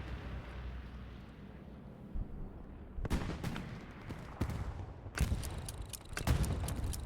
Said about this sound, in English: Rockets coming across into the tanks.